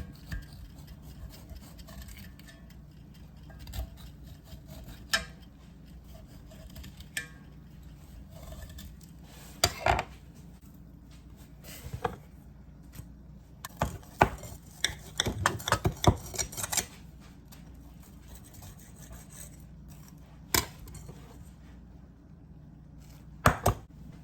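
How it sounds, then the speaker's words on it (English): A knife cuts through a pan of baked cornbread, giving scattered soft scrapes and sharper knocks against the dish. The sounds are quiet and irregular, with clusters of taps near the middle and no talk. "Go ahead and cut my cornbread."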